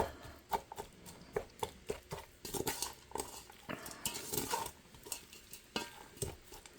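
A spoon scrapes and clinks against a Ninja Foodi pot in quick, irregular strokes, breaking up tomatoes with feta, with a soft sizzle beneath, close and fairly quiet.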